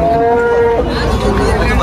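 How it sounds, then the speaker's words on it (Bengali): Cows moo loudly at a busy cattle market in Tepakhola, a long drawn-out bovine call with crowd noise around it. "ভালো সুন্দর সুন্দর গাভী গরু উঠছে আজকের হাটে"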